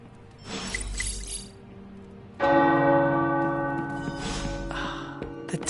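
Tower bells ring in Marvel's Midnight Suns, a loud struck peal entering partway through and sustaining long resonant tones that slowly decay, after a quieter, rumbling start.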